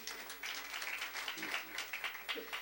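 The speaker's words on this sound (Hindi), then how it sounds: "एक बार ताली बजाएं।" An audience at a Hindi comic poetry recital claps steadily, a faint, dense patter of many hands without a break.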